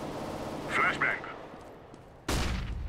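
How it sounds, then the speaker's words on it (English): A flashbang grenade is thrown in Counter-Strike: Global Offensive, with a short electronic chirp followed by a sudden loud, broad burst near the end, and talk heard under the game sounds. "Throwing flashbang."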